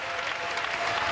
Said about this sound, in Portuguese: Aplausos para o Brasil!